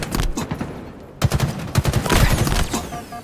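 Rapid bursts of video game gunfire from a ranked duos match, loud and dense, with short volleys cutting off and then resuming.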